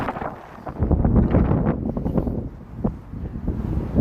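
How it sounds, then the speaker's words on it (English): Strong wind buffets the microphone in continuous low rumbling gusts on a Chicago street, loud and close, with no voices. "It's going to get really windy. It's going to be hard to hear me"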